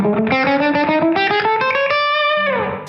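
A distorted electric guitar plays a quick lick, a fast run of picked notes climbing in pitch, loud and close, ending on a held note that fades out.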